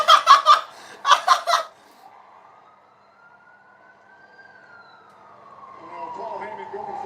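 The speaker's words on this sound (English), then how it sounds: "Wait, he's driving the ambulance." A faint, distant ambulance siren wails in a long rising and falling tone after a short burst of laughter, with quiet background murmur toward the end.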